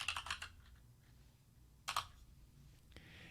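Bursts of typing on a computer keyboard, a quick flurry of clicks at the start, a pause, then another short cluster of keystrokes, close and fairly quiet in a still room.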